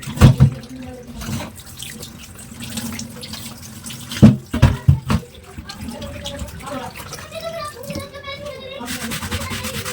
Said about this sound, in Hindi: मैं ताता पानी डालूंगी